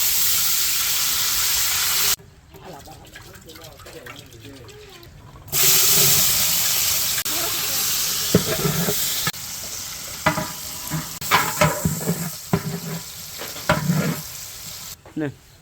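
Goat fat frying and being stirred in a large pot for mutton kacchi biryani, loud steady sizzling with scraping stir strokes and clanks, while people talk nearby.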